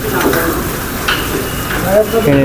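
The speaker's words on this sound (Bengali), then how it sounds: "তেলাপিয়া মাছ এবং সবজি দিয়ে রান্না করছে, অনেক সুন্দর কালার আসছে।" Tilapia fish and vegetables cooking in a pan, a short burst of close sizzling and stirring with a faint voice in the background.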